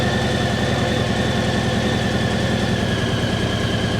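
A Harley-Davidson M8 Heritage V-twin runs close and steady in first gear at idle, a continuous low, throbbing pulse with a slight vibrating buzz and no talking.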